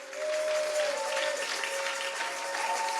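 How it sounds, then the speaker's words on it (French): A church congregation claps and cheers in a sustained, dense wash of applause that fills the room, with a steady tone running underneath. "Regardez même les acclamations."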